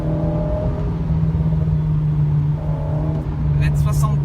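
Alpine A110 engine pulling steadily on an open road, a continuous low drone that stays loud throughout, with someone talking over it.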